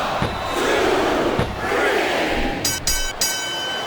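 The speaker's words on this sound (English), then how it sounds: "I'm not sure I agree with what the crowd is chanting, JR, but I guess it's their right." Wrestling arena crowd at a Mickie James vs Melina Iron Man match, a loud sustained mass of voices chanting and cheering with rhythmic swells, plus a few brief sharp bursts near the end.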